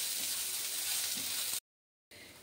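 Chopped onion sizzles in hot oil with cumin, a faint continuous hiss that drops out briefly before resuming.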